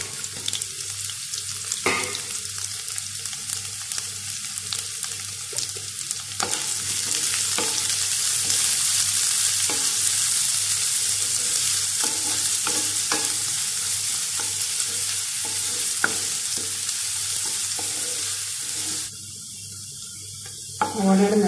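Chopped onions sauté in a pan for a pineapple chutney, a steady broadband sizzle with repeated scraping stirs and clatters throughout, some running water near the start and end, no talk.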